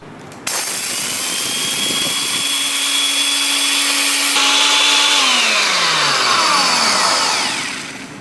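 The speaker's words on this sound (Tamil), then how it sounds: "ஸோ இப்போ இதில் வந்து நம்ம போட்டு லாக் பண்ணி திரிச்சுக்கலாம்" An electric flour mill grinds grain. Its motor whine kicks in loudly and holds steady, then shifts in pitch as the grinding load changes and winds down at the end.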